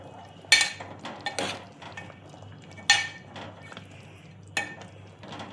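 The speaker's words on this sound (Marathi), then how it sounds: "आता हलवून घे छान व्यवस्थित" Vangyachi bhaji, an eggplant curry with crushed peanuts, being stirred in a pan: a spoon clinks and scrapes against the metal in a few sharp, spaced strokes over a quiet background.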